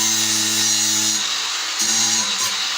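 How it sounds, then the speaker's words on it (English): An angle grinder's abrasive disc grinds steel stock down while shaping a spear, a loud continuous high whine with steady tonal hum that dips briefly and resumes, close up with no talk. "I'm just going to grind it off instead of cut it off"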